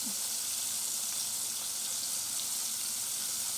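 Fresh pork side bacon sizzles in a pan over medium-high heat, giving a steady, close, even hiss with no voices.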